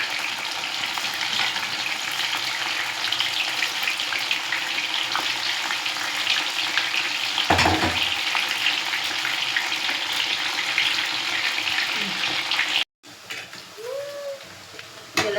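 Mushrooms frying in coconut oil for mushroom manchurian, a loud, close crackling sizzle with stirring noises, a thump midway, then a sudden break followed by quieter sizzling and faint sounds.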